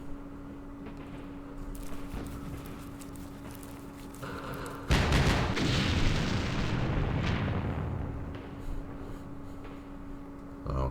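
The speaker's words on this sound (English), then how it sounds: "Oh, there's mortars." Mortar fire in the wargame Campaign Series Vietnam at Dien Bien Phu: a low background rumble, then a heavy sustained blast that rolls on for several seconds before fading back to the quieter bed.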